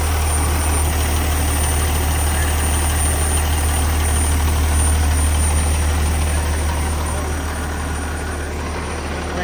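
A truck engine idles loudly at a trucking yard, a heavy, steady low rumble filling the whole stretch without letting up.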